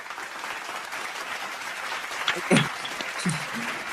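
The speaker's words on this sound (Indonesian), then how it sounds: "boleh berikan tepuk tangan sekali lagi untuk pemateri kita hari ini" A crowd claps steadily in a dense, even patter, with a few short voices or cheers breaking through near the end.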